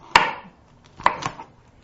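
A knife chopping through broccoli stalks on a board, two sharp close cuts about a second apart followed by a softer third, with no talking.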